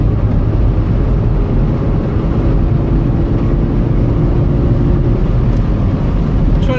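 A sports car cruising along an English country road on a summer evening, its engine giving a steady, loud low drone with road and wind rumble throughout, no voices.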